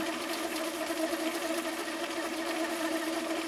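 A Viking 6370 sewing machine running a complex overlay stitch pattern, its steady rapid mechanical whir and needle chatter continuous and close, with no talk.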